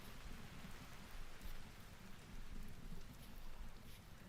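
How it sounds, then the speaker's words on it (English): Steady rain falling in a video game, a faint, continuous patter with soft low rumbling underneath and no talk. "Oh yeah, rain's letting up."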